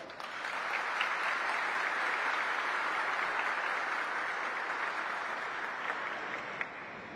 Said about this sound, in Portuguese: meu irmão deputado estadual, Rodrigo Amorim, para quem peço uma salva de palmas.